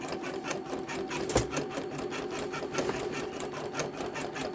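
A Janome Memory Craft 10001 embroidery machine stitches steadily, its rapid needle strokes forming an even mechanical rhythm up close with a continuous motor hum.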